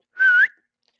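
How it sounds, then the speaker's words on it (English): One short, clear whistle from a person, a single rising tone lasting about a third of a second, close and alone against silence. "I whistled. I was having whistle problems."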